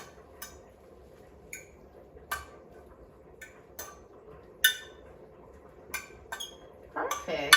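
Fresh spinach seasoned with salt, black pepper and garlic powder being stirred in a dish after microwave steaming, giving a series of sparse, light clinks of utensil against the dish over a quiet background, busier near the end.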